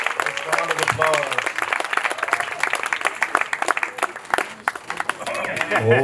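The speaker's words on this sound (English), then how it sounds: "Round of applause." Wedding guests applaud in a dense, steady round of clapping, mixed with cheering voices and chatter that carry through the whole stretch.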